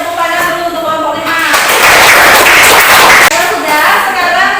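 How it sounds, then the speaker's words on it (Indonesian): Students in a classroom give a round of applause for a presenting group, a short dense burst of clapping between a teacher's spoken lines. "Sekarang kita beri tepuk tangan dulu untuk kelompok 5."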